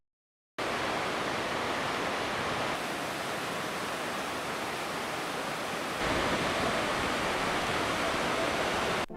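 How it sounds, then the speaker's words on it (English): The Ocoee River in Tennessee rushes past in a dense, unbroken roar of whitewater. It starts abruptly after a moment of silence and holds loud and steady, growing slightly fuller near the end. "This is the Ocoee River in Chattanooga, Tennessee."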